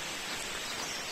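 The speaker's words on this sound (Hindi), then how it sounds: "हल्की हल्की बारिश हो रही है" Light rain drizzles outdoors on the road between Banhil and Solan in Himachal Pradesh, a steady even hiss of fine drops with no other sounds standing out.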